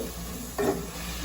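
Pandan leaves and tomato being sautéed in a pan for chicken biryani, with a soft steady sizzle and one brief louder burst of stirring and frying midway.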